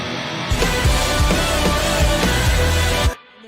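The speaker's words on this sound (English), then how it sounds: "we've got a distortion guitar" Distortion guitar in a recorded multi-platinum studio song, a dense saturated wall of chords driving over a thumping low rhythm for about three seconds, then cutting off abruptly.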